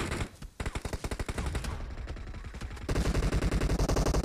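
Rapid bursts of automatic gunfire in the mobile game PUBG Mobile, loud and close, with short rattling volleys, a brief pause, then a sustained stream of shots.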